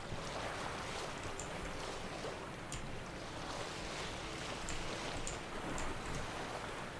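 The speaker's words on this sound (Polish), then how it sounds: "Ja se płynę tą łódką, jak gdyby nigdy nic." A boat moves across water in The Witcher 3: Blood and Wine, with a continuous soft wash of water and splashing and a faint breezy hiss throughout.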